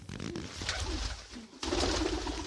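A pigeon coos near its nest, soft and fairly close, in a few low murmuring phrases, the last coming out more strongly.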